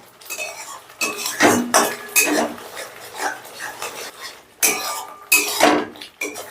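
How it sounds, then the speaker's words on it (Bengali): Spice masala frying in a pan, stirred hard with a metal spoon that clinks and scrapes against the pan in irregular bursts over a soft sizzle. "এবারে মশলাটাকে আমি 9-10 মিনিটের মতন বেশ ভালো করে কষে নেব।"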